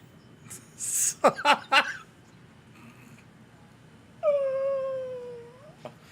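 A cat meows once, a clear drawn-out wail near the end, after a few brief sharp sounds earlier; no talk over it.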